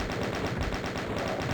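Rapid automatic gunfire from the game Doom on the Dystopia map, a fast even stream of shots at steady loudness across a brief stretch, with no voice over it.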